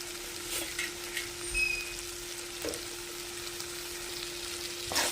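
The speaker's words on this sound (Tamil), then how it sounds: "இப்போ இது கூடவே நம்ம ஃப்ரை பண்ணி வச்சுருக்கிற கத்திரிக்காய் ஆட் பண்ணிக்கலாம்" Fried brinjal pieces tipped into a pan of sizzling tomato and onion masala, giving a steady soft frying hiss with a few light clatters of stirring, fairly quiet and with no talking.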